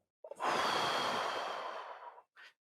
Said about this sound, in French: Alors une respiration.